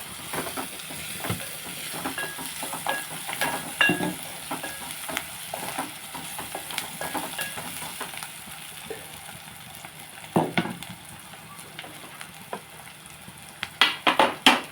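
Raw banana pieces are stirred into a simmering fish curry with mango, giving a steady sizzle under repeated scraping and clinking of a spoon against the pan, with sharper clatters near the end.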